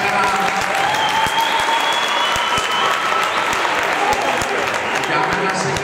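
A large audience claps continuously and loudly throughout at the official first presentation of a sports club, a dense, sustained wash of applause with no pauses.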